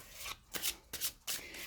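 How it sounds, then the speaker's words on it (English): A new deck of Mythos tarot cards by Helena Elias is shuffled by hand in several quick riffling bursts, soft and close, with no talking. "Have a bit of a shuffle this way."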